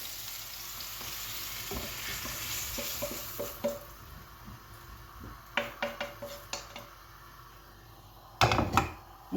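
Browned pumpkin pieces tipped into frying potatoes and stirred, producing a continuous sizzle broken by a series of sharp spoon scrapes and knocks against the pot, ending in louder clatter; close, without speech.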